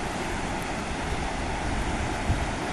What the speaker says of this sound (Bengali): তরঙ্গ ঢেউ